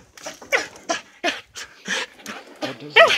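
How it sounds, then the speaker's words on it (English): A dog pants and whimpers close by in short, uneven breathy bursts with high whines, and a person's voice mixes in near the end. "those are jumpy dogs"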